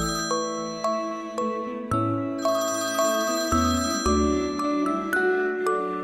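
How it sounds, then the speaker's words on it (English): A telephone rings with a repeating electronic melody, each note struck and left to ring in a steady pattern. It is loud and clear, with no talking over it. "Mama Llama hears the phone."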